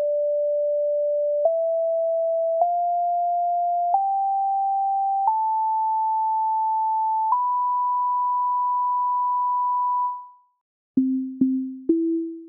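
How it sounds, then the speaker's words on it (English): Pure, sine-like tones from a simple piano scale played in Chrome Music Lab step upward note by note, the last one held long, then three short lower notes follow. Clean and steady, with no voices. "let's play a simple scale on the piano."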